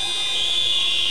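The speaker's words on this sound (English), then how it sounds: "So there goes the buzzer." A steady electronic buzzer sounds at the end of a quarter in a men's netball match between the Isle of Man and Guernsey, a loud continuous high tone lasting the whole moment with no talk.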